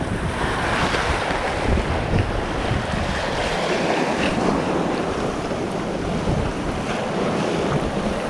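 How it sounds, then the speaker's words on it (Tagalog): A strong sea current rushes along a shoreline as waves surge and wind buffets the microphone, producing a loud, constant roar with no pauses and no voices. "Lakas ng agos"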